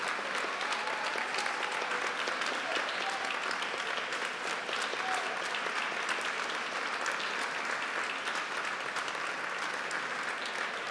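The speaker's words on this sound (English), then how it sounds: "I would like to take this occasion to make a very big applause for the organizer of this conference" Steady, continuous applause from a banquet audience at a robotics awards ceremony, honoring the conference organizers; a sustained wash of many hands clapping at moderate distance without a break.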